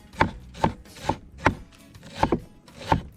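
A knife shreds cabbage against a board in sharp, rhythmic strokes, about seven distinct rasping chops spaced roughly half a second apart, close and clear with no voices.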